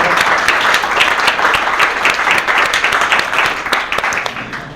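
At a New Year celebration and opening ceremony, a crowd applauds in a dense, continuous wash of claps, loud and close throughout with sharp individual claps cutting through, sustained for nearly five seconds.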